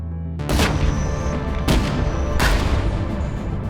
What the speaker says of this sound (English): We engage fire from the cannon, take a shot, and the cannon is reloading.